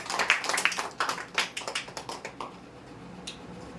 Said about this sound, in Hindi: आइए ताली मारेंगे।